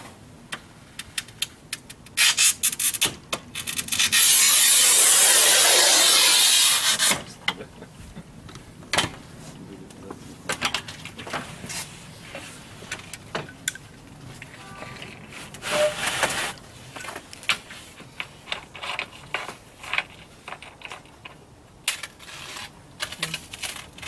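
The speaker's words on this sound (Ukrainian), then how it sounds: "Перед вами нова система Batipad для порізки великого формату." A Batipad large-format tile cutting system scores a tile with a loud, sustained gritty rasp lasting about three seconds. Scattered clicks, knocks and ticks of handling the cutter and tile come before and after it.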